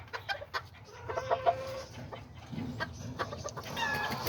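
Chickens in a backyard cage cluck in short, scattered calls near and far, with a faint higher bird call toward the end over a steady outdoor background.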